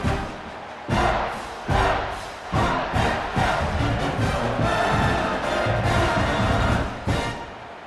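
A home crowd in the College Football 26 video game roars in repeated loud surges, swelling and easing in waves over several seconds.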